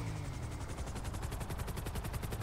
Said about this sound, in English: Maybe our luck is changing because there's a helicopter.